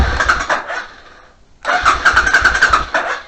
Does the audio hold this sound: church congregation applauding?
no